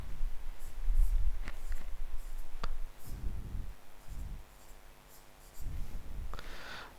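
Marker or chalk writing on a classroom board during an English lesson, short scratchy strokes in irregular bursts, close and moderately loud, with soft breathing and small clicks between strokes.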